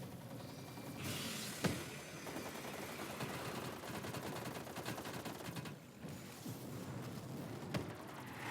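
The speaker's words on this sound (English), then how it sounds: "Death machine spinning up." Death Machine minigun in Cold War Zombies roaring through a sustained, dense burst of rapid automatic fire that runs nearly unbroken, with a couple of sharper cracks standing out, close and loud with a brief dip in the middle.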